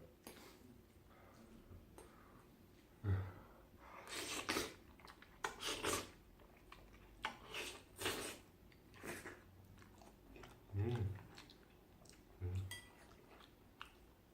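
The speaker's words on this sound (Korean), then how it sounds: "한번 이거 맛있게 한번 먹어보도록 하겠습니다. 두 개 끓인 거예요 라면" Quiet close-up chewing and slurping of buldak carbonara ramen noodles, two packs cooked together, in a mukbang, with several soft bites and crunchy mouth sounds spaced irregularly and no talk.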